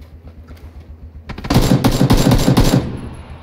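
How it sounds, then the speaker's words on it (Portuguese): Automatic weapon fire in the shooter game PUBG opens after a quiet stretch as a loud, close, rapid burst of shots lasting about a second and a half, then cuts off. "Atira nele, tira ele de tempo."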